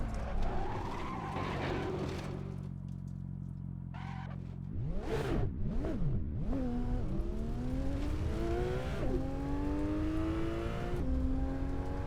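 A car in Assetto Corsa on the Isle of Arran road map, west of Scotland, revs through its gears, tires squealing and skidding loudly mid-lap before the engine climbs repeatedly in rising shifts.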